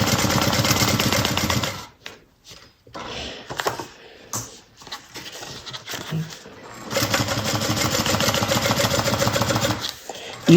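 A sewing machine stitches a pocket on a bucket bag in two sustained, loud runs of rapid needle whirring, with a pause between them where a voice talks and fabric is handled.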